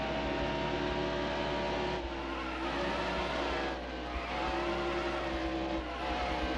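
Race car engine noise from the NASCAR Heat Evolution video game at Kentucky, a continuous high drone of a car sliding through the turns, steady and loud with slight dips, with no talk over it.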